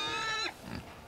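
A pig gives a short, close grunt followed by a softer snort, brief and clear against a quiet background on a farm in the Northern Territory.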